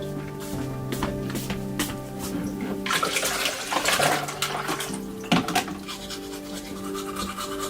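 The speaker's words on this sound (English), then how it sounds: "he washed his face and brushed his teeth." Ice-cold water splashing as someone washes their face during an extreme Yakutia, Siberia winter, with a series of close, wet splashes and running water, loudest in the middle.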